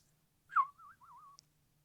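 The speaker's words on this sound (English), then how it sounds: "Now that was a whistle." A person whistles a short rising-and-wavering tune, a brief sharp note followed by two sliding warbles, clear and alone against a faint low hum.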